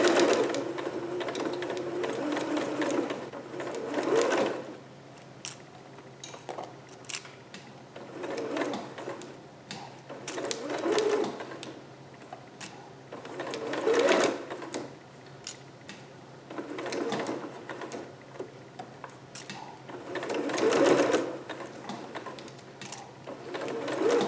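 A sewing machine stitching a garment seam, running in repeated short bursts separated by quiet pauses as the fabric is reset under the foot, close and moderately loud.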